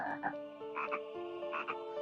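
Frog croaking in a video game during a Halloween special, repeated croaks over game music with a steady tonal backing, fairly loud and close, no talk.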